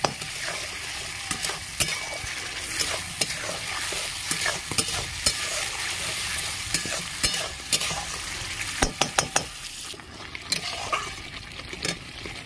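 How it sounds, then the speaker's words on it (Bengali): Gobindobhog rice being stirred while it fries in a pan for a village-style mochar ghonto, a steady sizzle under repeated scraping strokes of a spoon against the pan, close and alone. "গোবিন্দভোগের চাল দিয়ে দিচ্ছি। ভালো করে একটু নেড়ে চেড়ে নেব।"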